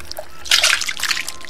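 Water is poured out in a short, splashy trickle that rises and then tapers off over about a second, close by during a stage skit.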